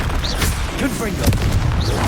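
A fiery Confringo spell blast in Hogwarts Legacy lands as a short booming burst amid busy combat noise, with a voice talking over it.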